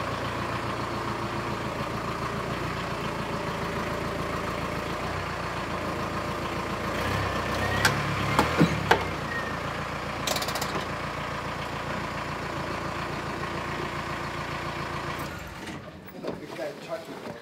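VW T25 bus from a barn find, idling in a workshop while its power steering is turned: a steady low engine rumble with creaking and clunking from the mechanism midway, and voices talking over it.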